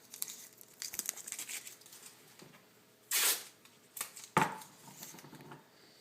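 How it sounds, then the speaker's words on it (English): Wrap film being positioned and taped onto the frunk insert of a BRP Can-Am Spyder, with soft crinkling and a few sharp tape-pulling bursts, quiet and close. "Once you get it into the position, we'll again Tape it into place."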